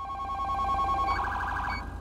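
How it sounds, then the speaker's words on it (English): An electronic high-low police siren from Lux Art Vehicle Control in GTA 5 FiveM alternates between a lower tone and a higher tone, loud, steady and alone. "If you press number 3, that is the high-low."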